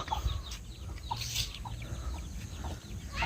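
Chicks and chickens cluck in short scattered calls over a steady low rumble on a small farm, several birds chirping at once without any talk.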